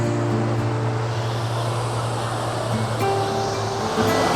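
Waterfall in a partly wooded spot in the Yorkshire Dales, a steady broadband rush of falling water with a constant low rumble, loud and unbroken throughout.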